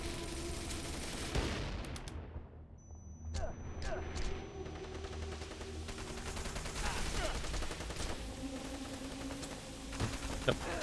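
Gunfire in the Wanted: Dead video game, fired through a wall, crackles in rapid bursts of sharp shots amid layered combat noise and a steady background hum.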